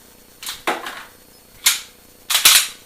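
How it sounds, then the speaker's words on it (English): Handgun being unloaded: magazine pulled out and a chambered round ejected, giving four separate sharp metallic clacks and slides spaced over about two seconds, close and clear with no talking. "draw your handgun, take out your magazine, eject the round"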